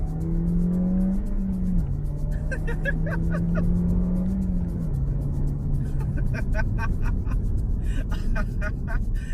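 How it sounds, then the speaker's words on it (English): A 2022 Suzuki Swift Sport is floored at full throttle, its engine note rising steadily under loud road and wind noise, with a brief shift in pitch partway through; a person talks over it. "I'm just gonna floor it again because why not?"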